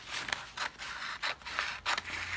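Scissors cutting paper along marked lines for a dollar-store patriotic wall plaque craft, giving five or six separate crisp snipping strokes at a steady rhythm, close up with no talking.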